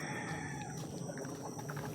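Chickens on a home farm cluck and call faintly amid a soft outdoor background, a scattering of brief bird sounds at a distance.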